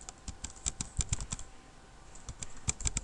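HTML code typed on a computer keyboard, quick bursts of close, crisp key clicks with a short pause in the middle, quiet overall with no voices.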